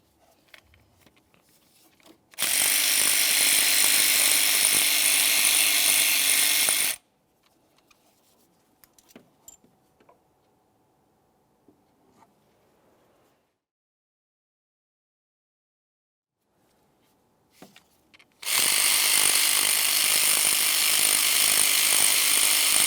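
Loud, steady bursts of an impact or power tool loosening the water pump mounting bolts on a 2011-2018 Volkswagen Jetta, two long runs of several seconds each separated by quiet ratcheting and handling clicks.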